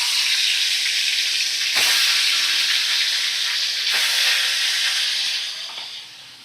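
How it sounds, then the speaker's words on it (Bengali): Pieces of bhetki fish sizzle in hot oil in a kadai, a steady loud broadband hiss with brief crackling bursts near the start and middle, fading slightly at the end; no one speaks. "আমি দেখো ভেটকি মাছগুলোকে আমি ভাজা করে নেব"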